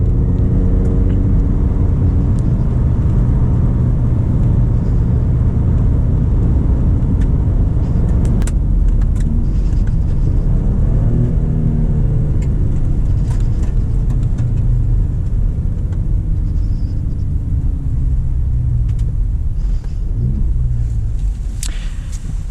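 A 2020 Ford Raptor tears along an off-road trail at high speed, its engine a continuous loud rumbling roar with rattles and bumps over rough ground, nobody speaking.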